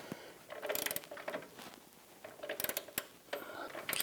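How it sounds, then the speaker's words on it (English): A wrench ratchets while tightening the cam bolt nut on the front upper control arm of a Hummer H3, quiet bursts of rapid clicking in several short runs with pauses between. "we're going to torque down the nut to 114 foot-pounds"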